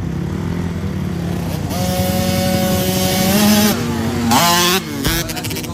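A 50cc Cobra motorcycle engine revs loudly and continuously nearby at a flat track, its pitch climbing and dipping as the throttle is worked, with a whining high tone throughout.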